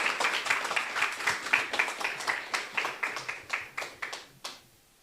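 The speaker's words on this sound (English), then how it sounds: "Please give a big round of applause to welcome her on stage." Scattered hand claps at a business forum chapter meeting, a modest patter of applause welcoming a speaker that thins toward the end and stops, leaving quiet.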